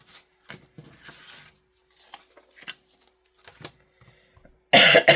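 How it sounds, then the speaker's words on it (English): Quiet rustling and shuffling sounds, then one sharp, loud cough bursts out near the end. "I'm going to be coughing"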